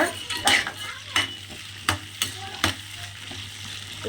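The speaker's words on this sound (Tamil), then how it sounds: "ஸ்டவ் வந்துட்டு இப்போ ஹையில் வச்சுக்கிட்டு நல்லா வதக்கி விடுங்க." Small onions sauté on high heat for a village-style mutton curry, a continuous oily sizzle broken by several sharp scrapes and taps of a ladle stirring the pan, close and fairly loud.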